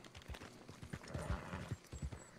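Horse hooves arriving in Red Dead Online, a quick run of rhythmic clip-clop steps on the ground, moderately close and clear, with no talking over them.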